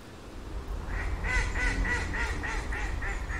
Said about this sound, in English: there's a wild goose now. It's looking for trouble with these Canadian geese.